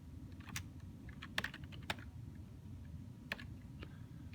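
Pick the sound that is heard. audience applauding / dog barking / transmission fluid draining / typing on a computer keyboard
typing on a computer keyboard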